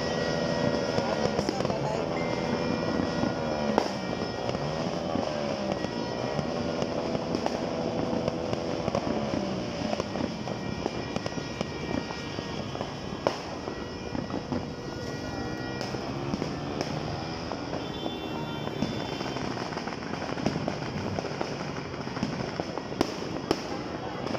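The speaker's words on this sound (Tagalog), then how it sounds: "Ganda ng fireworks." Christmas fireworks crackle and pop continuously from a distance, a dense, unbroken barrage, with people chatting over it.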